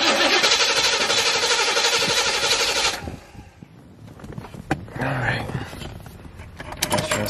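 A Chevrolet C4 Corvette engine cranks loudly and steadily for about three seconds, then cuts off and leaves quiet shop sounds and a few scattered clicks.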